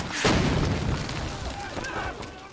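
A loud, deep boom from a war film trailer bursts in and rolls on as a long, dense rumble, with voices and other battle sounds faintly mixed beneath.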